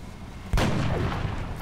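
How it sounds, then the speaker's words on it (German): A single loud sniper rifle shot in XCOM: Enemy Within (Long War mod) cracks out after a quiet moment, followed by a long rumbling decay. "Sniper schießt einfach weiter"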